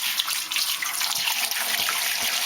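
Water pouring from a juice jug into a pressure canner with a bottom tray, a steady splashing, bubbling rush close by that runs throughout without pause.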